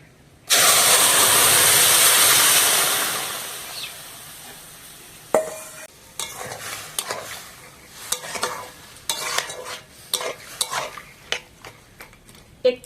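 Chana dal lentils go into a hot pan of oil and spices, starting with a loud sizzling rush that fades, then a run of scraping, clinking stirs with a spoon against the pan.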